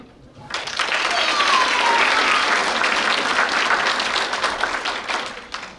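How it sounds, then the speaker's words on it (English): A talent competition audience breaks into loud, sustained applause that starts abruptly and stays steady for about five seconds, then tapers slightly at the end, with faint cheering mixed into the clapping. "let's give a big round of applause to Grandpa Gustave's Seed Production Incorporated for sponsoring tonight's talent competition"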